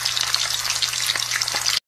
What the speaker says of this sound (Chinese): 实际上是煎培根的声音。